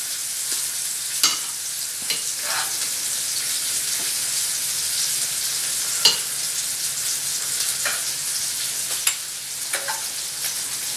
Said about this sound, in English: Salmon's cooking nicely.